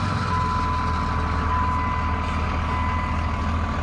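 A 2002 Dodge Ram diesel pickup engine with about 87,700 miles idles close by under the hood with a steady, unbroken low rumble and a faint whine riding on top.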